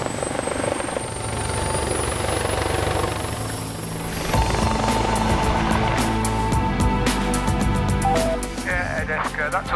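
An air ambulance helicopter lifts off, its loud, steady rotor thrum and whine building as the engine note rises and the rotor chop thickens after the first few seconds, with faint voices briefly audible.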